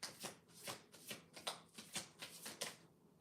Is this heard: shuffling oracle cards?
yes